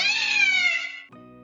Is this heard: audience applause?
no